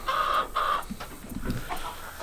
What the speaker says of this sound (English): My hens are not happy that I'm in here today.